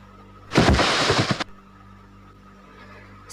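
A single loud, booming explosion sound effect, close and about a second long, cuts into a narrated horror story set in a forest and fades into quiet.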